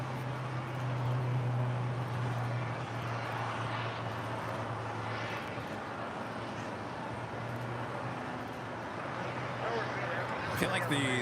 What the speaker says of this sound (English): And the Emirates A380 now making his way over here to the south side.